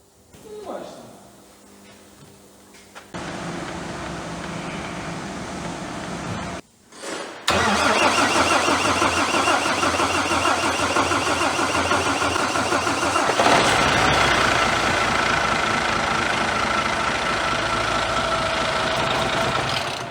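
A rebuilt Mercedes Actros truck diesel engine, overhauled after catastrophic oil consumption, cranks briefly, then fires and settles into a loud, steady, rough idle that is close up and continuous, with people talking over it.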